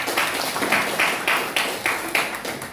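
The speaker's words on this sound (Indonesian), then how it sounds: "tepuk tangan ya untuk Dimas." A class of students in an Indonesian classroom claps together in a steady rhythmic beat, roughly two claps per second, moderately loud and close.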